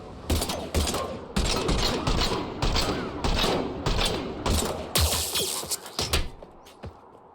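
Gunfire in the video game Mass Effect 3, set during a Reaper attack on Mars, as loud rapid bursts of shots in repeated volleys with mechanical clanks between them, up close and without talk.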